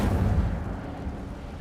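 An Incendio fire spell blast from a Harry Potter video game: a heavy, booming burst at the start that rolls off into a dull, rumbling fiery tail.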